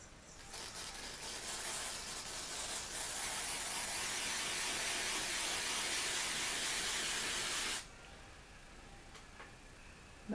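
L'Oréal Colorista pink hair colour spray is sprayed in one long continuous hiss lasting several seconds, then cuts off abruptly, leaving quiet room tone and a soft click at the end.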